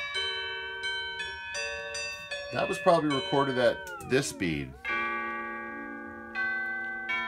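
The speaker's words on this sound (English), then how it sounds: "that's a bell choir" A bell choir plays back from an old recording on a Pioneer RT-707 reel-to-reel tape deck, sustained ringing bell tones in layered chords, with someone talking over the middle stretch.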